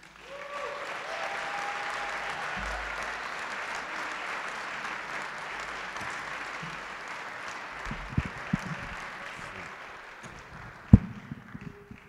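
Audience applause welcomes a student speaker at a Guardian Angel Society Kentucky Derby event, a full, sustained clapping that swells quickly, holds steady for several seconds, then thins out into a few scattered claps and thumps.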